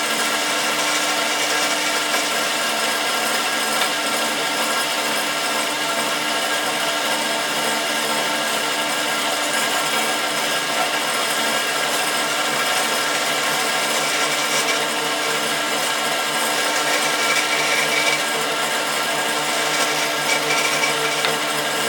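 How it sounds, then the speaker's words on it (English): Continuous whirring grind of a drill press boring dowel holes into wooden pattern pieces for a flat belt pulley, steady and loud throughout with no pauses or talk. "I've got a drill bit in the drill press. So we're just going to punch about 4 holes in here."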